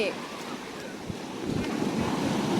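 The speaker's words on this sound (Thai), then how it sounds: "เพราะว่าคลื่นมันแรงเราไปไม่ไหวหรอก" Strong sea waves surge and wash around a small boat, a continuous loud roar of surf mixed with heavy wind buffeting the microphone.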